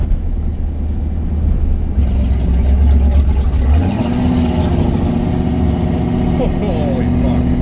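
A drag racing car's engine roars loud and close during a pass, holding a steady drone that shifts to a different pitch midway, while voices talk and shout over it.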